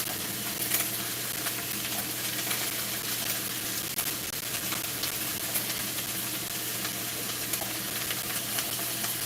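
Onions sizzling as they go into a pot of chili, a steady, close frying hiss with soft crackles and pops that holds evenly throughout with no talking.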